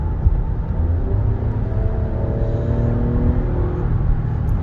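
A 2022 Lexus RX350 F Sport engine runs with a steady, loud low rumble and a smooth whirring drone that rises slightly in pitch, with no voices.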